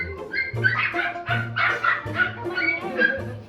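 Teacup Pomeranians bark in quick high-pitched yaps, several short bursts in a row, close and fairly loud, with some whimpering between barks.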